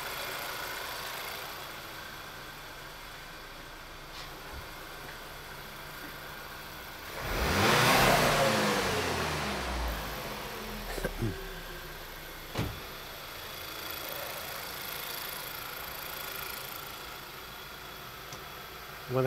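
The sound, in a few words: car engine accelerating then idling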